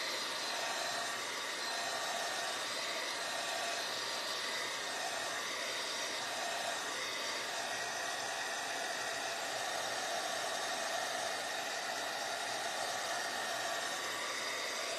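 A hair dryer blows on a decoupage Valentine's tag, giving a steady, loud, close rushing whoosh that runs unbroken for about fifteen seconds.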